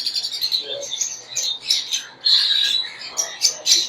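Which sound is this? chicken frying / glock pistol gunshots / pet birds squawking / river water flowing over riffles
pet birds squawking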